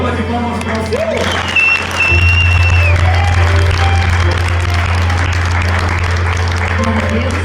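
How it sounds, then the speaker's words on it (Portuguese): A church congregation claps through a loud, sustained burst of applause, with voices and cheering mixed in and a steady low hum running underneath. "Dá uma salva de palmas para o Senhor."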